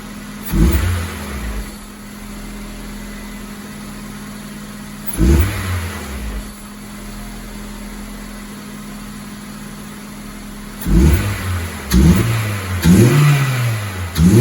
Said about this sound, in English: I'll go ahead and turn on the car and then do a few flybys, see the difference.